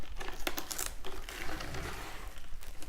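Plastic wrap crinkles and rustles as it is pulled and handled over an ice cream sandwich dessert, a close, soft crackling with a few sharper snaps early on.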